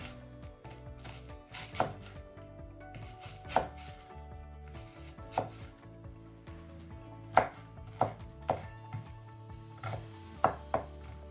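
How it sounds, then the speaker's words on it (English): A Morakniv Amberg flat-ground knife chops an onion on a board, giving sharp single knocks spaced a second or two apart, sometimes in quick pairs, close and clear with no talk. "It cuts onion almost as good as a kitchen knife."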